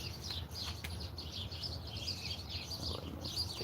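Several birds chirp and tweet near a beehive, with repeated bright calls over a low steady outdoor hum, moderately close and without any talking.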